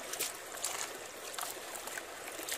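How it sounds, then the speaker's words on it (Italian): Water splashes and trickles steadily as it is poured over a sluice to rinse river gravel while panning for gold outdoors, a continuous broadband wash with small surges, close and fairly loud. "prendo un po' di acqua e vado a sciacquare tutto quello che c'è"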